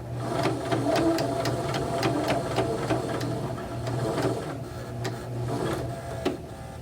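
A sewing machine stitches a fabric bookmark in a rapid, regular series of needle clatters over a steady motor hum, close and fairly quiet, slowing to a few separate strokes toward the end.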